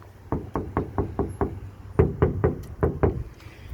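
Bare front door panel of a Ford Flex, with no sound deadener, knocked in two quick runs of hollow, resonant thumps. Six come, then a short pause, then six more, close up and with no voices.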